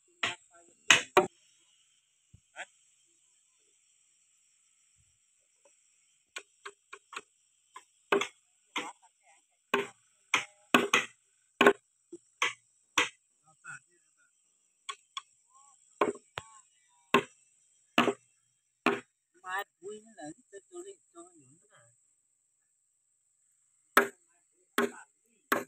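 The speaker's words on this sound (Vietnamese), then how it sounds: "Dùng đục tay đục." A hand chisel strikes into wood while building a new house, sharp dry knocks coming in irregular bursts and single hits with silent gaps between, close and fairly loud.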